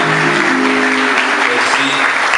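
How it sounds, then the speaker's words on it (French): Steady applause from a church congregation for the parish choir during the installation Mass of a new parish priest, a dense continuous wash of clapping filling the whole moment, with faint voices underneath. "Applaudissons pour eux très fort."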